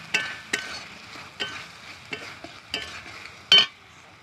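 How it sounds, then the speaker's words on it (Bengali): Spice masala with chopped tomato being stir-fried in a pan for a winter vegetable dish, with about seven distinct scraping strokes of the spatula over a soft sizzle, the last one loudest. "একটু ভালো করে একটু মশলাটা কষিয়ে নেব"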